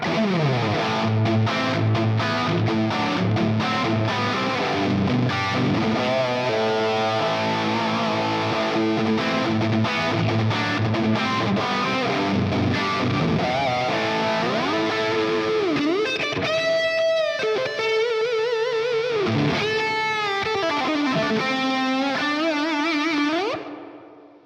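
An electric guitar plays through a NUX Amp Academy with a user-loaded cabinet impulse response and reverb. The tone is distorted, with dense chords and runs giving way to sustained, bending lead notes that ring out and stop abruptly.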